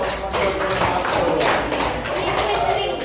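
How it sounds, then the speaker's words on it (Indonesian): Pupils in a classroom applaud together, a dense, steady patter of many hands clapping for about three seconds, with children's voices mixed faintly into the sound. "Tepuk tangan dulu."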